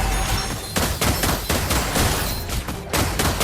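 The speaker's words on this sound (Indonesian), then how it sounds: "Rima mencoba memberikan tembakan dengan Dead Sonatanya." Rapid gunfire crackles in a Mobile Legends match, a loud, dense fusillade of repeated bursts with brief gaps between volleys.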